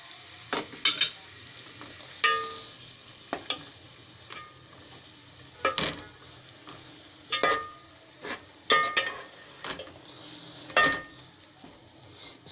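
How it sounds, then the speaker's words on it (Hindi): Minced meat (keema) frying with onions in a home kitchen pan for an aloo matar qeema, with a steady soft sizzle broken by repeated sharp scrapes and clinks of a spoon stirring every second or two, close and fairly quiet, with no talking. "कीमा डाल के इसको फ्राई करना है मैंने"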